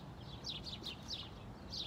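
Small birds chirp in short, bright bursts, several quick calls spaced across a quiet background, fairly faint and a little distant.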